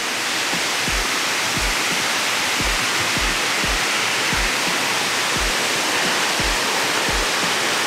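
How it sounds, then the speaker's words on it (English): Waterfall at Skinny Dip Falls roaring as a steady, loud broadband rush, with no voices, and faint low thumps scattered through it. "There is a waterfall here."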